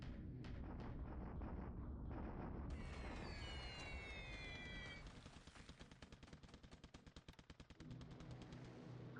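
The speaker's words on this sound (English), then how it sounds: "B-17s. Carpet bombing my ground troops." B-17 bombers carpet bombing ground troops in a World War II Pacific war game, heard as a dense, steady wash of explosions and rumbling gunfire followed by a rapid stuttering burst of fire that fades away.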